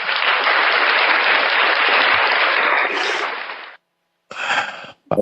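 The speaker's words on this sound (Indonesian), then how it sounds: "Tepuk tangan dulu buat Flores" Loud, dense applause from a crowd at a heated public debate event, sustained for nearly four seconds before cutting off, then a short second burst of clapping.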